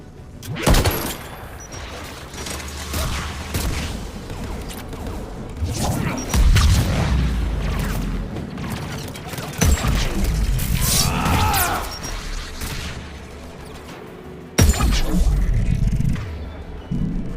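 Anti-aircraft guns firing in the Mass Effect Legendary Edition game, heard as heavy booming bursts and rattling volleys spread across the scene with sharp loud cracks, mixed with other game effects.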